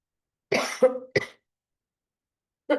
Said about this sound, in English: I had some cough and bad throat